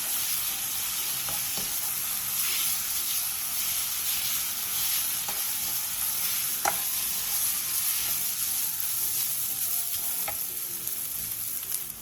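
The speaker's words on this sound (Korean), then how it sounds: "간장 한 스푼을 넣고 간장이 어묵에 골고루 배일 정도로만 약 1분 정도 볶아주세요" Korean fish cake stir-fried with soy sauce over medium-low heat, a continuous hissing sizzle with occasional sharp spatula taps against the pan, steady and unvoiced.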